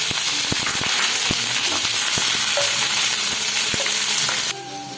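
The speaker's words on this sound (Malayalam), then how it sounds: "കുറച്ച് കടുക് കടുക് പൊട്ടിയതിന് ശേഷം ഉള്ളി കറിവേപ്പില പച്ചമുളക് താളിച്ചെടുക്കാം" Mustard seeds, shallots, curry leaves and green chillies fry in hot coconut oil for a Kerala coconut chutney tempering, a loud continuous sizzle with sharp pops and crackles scattered through, close up and without talk, dropping suddenly near the end.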